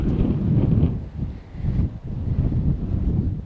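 Strong wind in Death Valley roars and buffets against the microphone in continuous low rumbling gusts that swell and dip, with no other sounds standing out.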